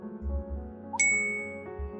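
A phone chimes once with a bright text-message notification ding that rings out and fades over a low, steady hum, with no talk.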